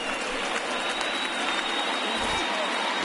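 Home crowd applauding at Great American Ballpark in MLB The Show 19, a sustained dense wash of clapping and cheering that holds steady throughout, loud and continuous.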